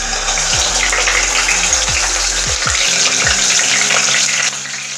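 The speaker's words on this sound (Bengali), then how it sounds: "দিয়ে দিচ্ছি তেল। দিচ্ছি পেঁয়াজ বাটা" Onion paste is added to hot oil in a pan, oil already used to fry cabbage kofta, giving a loud, close, steady sizzling hiss that runs without pause and with no talk.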